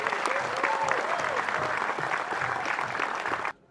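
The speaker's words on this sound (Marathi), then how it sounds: "निर्मात्यांसाठी मी आणि माझ्या डायरेक्शन टीम, माझ्या DOP टीम, प्रोडक्शन टीम कडून एकदा जोरदार टाळ्या" An audience at a film event breaks into loud, sustained applause, a dense wash of clapping with voices and whoops mixed in, ending abruptly.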